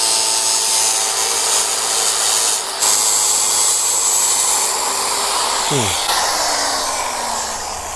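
An angle-grinder-style metal cutting machine fitted with an iron-cutting blade evens the end of a cut pipe piece, a loud continuous high whine and grinding hiss close by, with the motor pitch dropping and winding down near the end.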